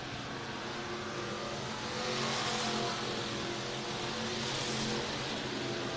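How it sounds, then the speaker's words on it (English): Race cars roaring around a dirt raceway track, a dense continuous engine drone from several cars that swells slightly midway, heard alone without talk. "You see these cars kind of working that line up a little bit, Travis."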